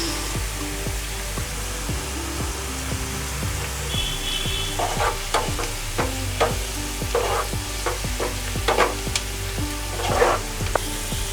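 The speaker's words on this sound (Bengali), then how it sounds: "মাঝে মাঝে পেঁয়াজটাকে ভাজা হতে দিতে হবে" Sliced onions sizzle steadily in hot oil while a spatula scrapes the pan in repeated strokes, browning into crisp birista for egg korma; close and continuous, with no talking.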